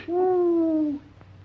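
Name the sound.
imitated owl hoot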